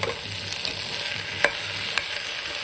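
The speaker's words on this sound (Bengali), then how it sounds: "এখন ভালোভাবে কষিয়ে দেবো" Khichuri is stirred and sautéed in a pan: a soft continuous sizzle with light scraping strokes and a couple of sharp spoon clicks against the pan, close and brief, with no voices.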